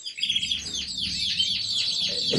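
A songbird in spring breeding season sings a rapid series of bright, sweeping chirps and trills, close and clear over faint background noise.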